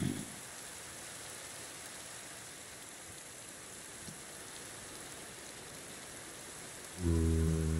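Rain in Minecraft falls as a steady, even hiss throughout, and a loud low tone cuts in near the end.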